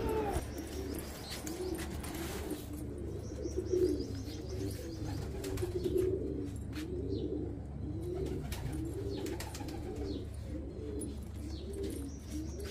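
Seven baby pigeons coo in a steady, rolling rhythm, with occasional chirps and faint wing flutters over a low background hum.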